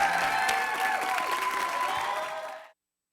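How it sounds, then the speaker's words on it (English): A studio audience at a dating game show applauds, a dense, steady patter of clapping that keeps going for over two seconds and then cuts off sharply, leaving silence. "Give them a round of applause."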